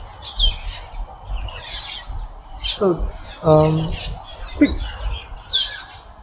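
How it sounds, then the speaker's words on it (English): Many birds chirp and call overhead in fig trees in Dover Forest, Singapore, in a busy, overlapping chorus, with someone speaking briefly beneath the calls. "There are so many birds chirping up there."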